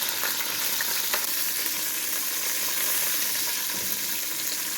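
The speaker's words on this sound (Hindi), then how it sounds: "तेल गर्म हो गया तो अब डालेंगे लहसुन।" Garlic sizzling and frying in two tablespoons of hot oil in a pan while making mint chutney, a steady bright crackle with occasional stirring, no talk.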